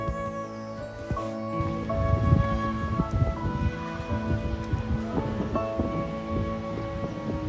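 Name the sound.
rain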